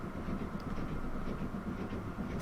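A train rolls along steadily in the railway game Transport Fever 2, a continuous low rumbling drone with faint clatter, even and moderately loud throughout with no talking.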